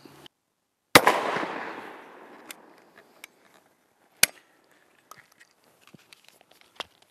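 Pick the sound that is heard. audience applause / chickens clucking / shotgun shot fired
shotgun shot fired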